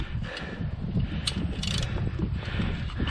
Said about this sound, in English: All I've got to do now is release the spring clamps